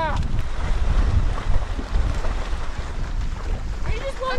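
A breeze buffets the microphone during an outdoor horseback ride, a steady rough roar of wind noise throughout, with people talking faintly in the background.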